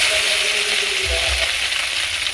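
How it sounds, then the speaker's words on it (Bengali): Small river bele fish frying in hot oil in a pan, a steady dense sizzle and crackle throughout the short stretch, with a couple of brief low bumps as the fish shift in the oil; no talking. "ভালো করে তেল গরম হয়ে গেছে, এবারে মাছগুলো দিয়ে দেব।"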